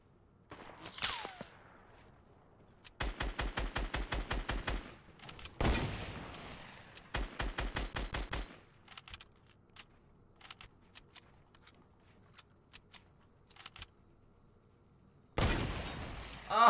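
Rapid bursts of hunting rifle and gun fire in a battle royale duo match, several clusters of loud, evenly spaced shots separated by quieter gaps, with another sharp burst near the end.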